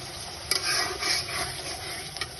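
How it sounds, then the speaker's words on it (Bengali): Steady hiss of onions and green chilies frying in oil, with a couple of brief sharper crackles breaking through the sizzle. "এই যে এখানে হচ্ছে পেঁয়াজ কাঁচামরিচ ভাজতেছি"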